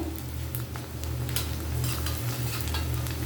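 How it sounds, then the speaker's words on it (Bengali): Chopped onions fry in oil in a pan for a hilsa fish curry, with a steady close sizzle and scraping stirring strokes throughout. "পেঁয়াজটা আমার মোটামুটি ভাজা হয়ে গেছে"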